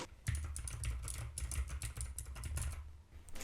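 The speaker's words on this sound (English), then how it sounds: "if you're using a mechanical keyboard, it's going to pick up the sound" Rapid, irregular clacking keystrokes from a mechanical computer keyboard, close and fairly crisp, going on steadily for a few seconds with no talking.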